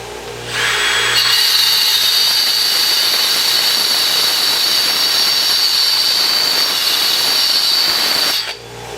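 A rotary cutter blade being honed on a sharpening jig under a loud, continuous power-tool whine with a steady high hiss, starting abruptly and running evenly for several seconds before cutting off.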